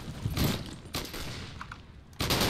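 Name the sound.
M1919A6 machine gun fire in video game Unit 1968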